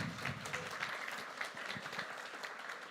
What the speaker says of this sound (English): could you please thank yourself now and give a huge applause?